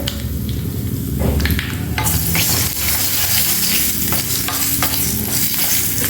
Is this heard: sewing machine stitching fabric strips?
no